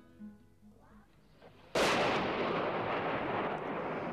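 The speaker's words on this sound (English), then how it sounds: "this shell exploded in a street not far from the hall" An artillery shell explodes in a street during the fighting in Bosnia, a sudden loud broadband blast after a quiet stretch of faint background, followed by a long rumbling roar and debris wash that stays strong to the end.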